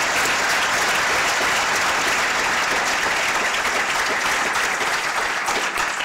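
Sustained, dense applause from a lecture audience fills the room at a steady, loud level throughout, with no pauses and no voices standing out.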